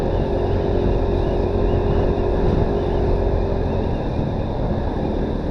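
Steady road traffic on Sumulong Highway during a busy afternoon commute, a continuous broadband rumble of passing vehicles and engines that stays loud and even throughout with no talk over it.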